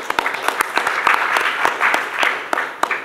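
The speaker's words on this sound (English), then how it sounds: "So a brief round of applause for all of them." Audience applause at a tech conference talk on resource sharing, a steady round of clapping with sharp individual claps standing out, fairly close and continuous for the whole stretch, with no talking.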